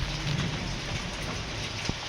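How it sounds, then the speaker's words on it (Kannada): Heavy rain falls steadily outside a house during a thunderstorm, a dense, even hiss with no pause, close and moderately loud, with a faint brief knock near the end. "ಹೊರಗೆ ಹೋಗಕ್ಕೆ ಆಗ್ತಿಲ್ಲ, ಅಷ್ಟು ಬರ್ತೈತೆ ಮಳೆ"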